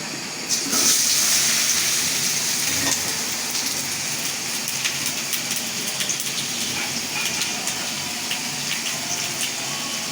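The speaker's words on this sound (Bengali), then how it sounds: "আমার তেলটা গরম হয়ে গেছে আমি এখন ওল কয়টা ভেজে নিচ্ছি" Pieces of ol, or elephant foot yam, fry in hot oil, giving a dense, continuous crackling sizzle like heavy rain that holds steady and close throughout.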